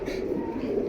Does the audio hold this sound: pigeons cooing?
yes